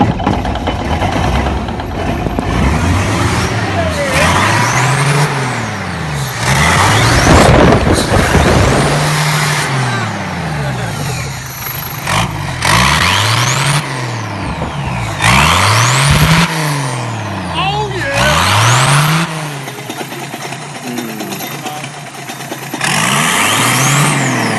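A turbo diesel budget rally truck engine revs repeatedly under throttle, loud and close, with rising and falling engine notes and turbo whine swelling in bursts before dropping back to idle, no talking.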